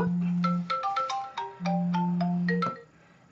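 A phone ringtone plays a bright melodic tune of quick chiming notes over sustained low tones, loud and close, then cuts off near the end with no talking.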